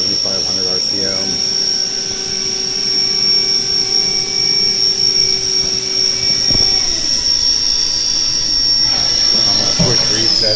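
A CNC machine spindle runs steadily at 7,500 RPM with a bright sustained high whine and a broad machine hum, loud and continuous, with some speech-like sounds mixed in.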